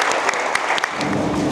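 A crowd at a painting exhibition for the painter Manuel, in the Edificio Moruno in Grao de Castellón, gives dense, loud applause. It sounds close and continuous throughout the short stretch.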